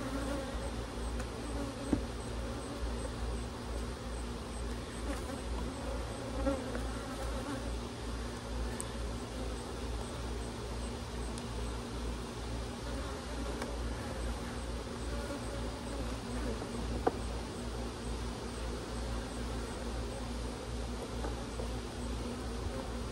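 Honeybees hum in a steady, dense drone at an open hive during a late-summer inspection, continuous and close, with a few faint clicks of frames and handling and no talking.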